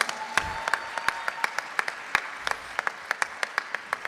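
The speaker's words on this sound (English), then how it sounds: "So let's give another round of applause." Audience applause after a long dance recital, sparse individual claps ringing out in a steady, uneven patter over a soft room bed, thinning toward the end.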